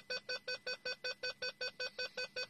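Rapid electronic beeping from a Peugeot 208 GTI dashboard during an engine oil change, a steady train of about a dozen identical tones at a quick even pace, faint and without any voices.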